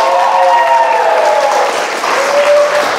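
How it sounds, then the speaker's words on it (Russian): Studio audience applause at a talk show, a dense, loud, continuous wash of clapping with faint crowd murmur and no speech. "Обычно аплодисменты, когда это делаю."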